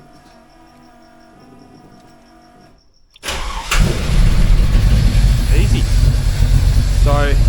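A Holden Torana engine cranks and fires about three seconds in, then settles into a loud, steady idle after a quiet stretch with a soft background hum, and a voice speaks briefly.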